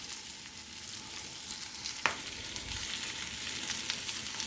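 A potato roast fries in a pan with a steady, close hiss of sizzling oil and a single brief knock of a utensil partway through.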